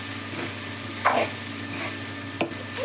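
Coriander rice gets stirred in a pan with soft scraping strokes over a faint steady sizzle, a few sharper spoon scrapes standing out near the middle and end.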